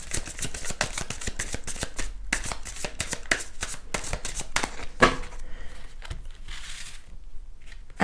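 Oracle cards being shuffled by hand before a draw, a steady run of crisp riffling slaps and flicks, close and fairly quiet, with no talking.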